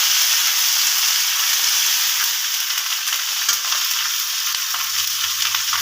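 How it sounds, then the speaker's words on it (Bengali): Onion, garlic and ginger paste frying in a pan while being stirred, a loud steady hissing sizzle with faint scraping strokes, close up and unbroken, no voices. "ভালো করে নেড়ে চেড়ে নিচ্ছি।"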